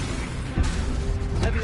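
The Incendio fire spell is cast in Hogwarts Legacy: a loud burst with a crackling, mechanical edge lands amid dense game sound, followed by a second surge a moment later, with speech present.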